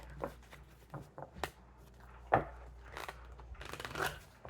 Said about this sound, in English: I'm just going to do a couple more shuffles and then we'll get right into it